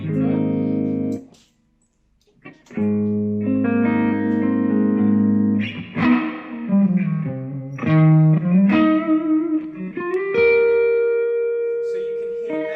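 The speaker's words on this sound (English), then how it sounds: "So if we have a room reverb" An electric guitar played through a pedal with a room reverb setting rings out in sustained chords and single notes, each tail gently spreading as if in a slightly larger room, with a brief silent gap near the start.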